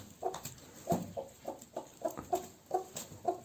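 Several hens cluck in short, separate bursts at close range, one after another with a steady rhythm and no talking over them, in a backyard flock among brooding hens at egg-collecting time.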